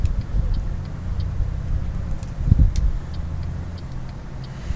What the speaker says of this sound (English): this definitely is a new sound for the Scania for me